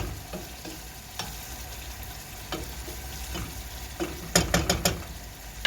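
Minced meat and onions sauté in a pan for a pea stew, a low steady sizzle broken by scraping stirs and a burst of sharper clatter near the end.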